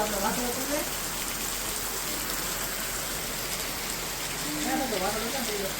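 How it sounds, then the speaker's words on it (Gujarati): Steady rain falls on a surface, a constant dense patter throughout, with faint voices in the background. "ફરી પાછો વરસાદ શરૂ થઈ ગયો છે"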